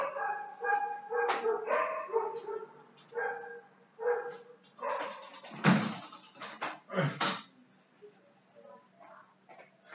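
Several dogs bark and yip indoors in a series of sharp, harmonic bursts, some close and loud, others whimpering, with irregular gaps between calls.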